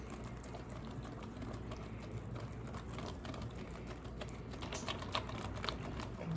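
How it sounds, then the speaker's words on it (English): Butter that has just been melted is whisked into a pumpkin muffin batter in a bowl, giving a steady, continuous scraping and clicking patter close by that runs throughout with no pauses. "And we're just gonna whisk it."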